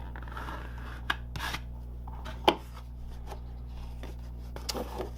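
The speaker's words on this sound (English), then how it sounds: "Give that a burnish." Bone folder burnishing the center score line of a paper card base, making short dry rubbing and scraping strokes with a few sharp crisp ticks. The sound is close and quiet over a steady low hum.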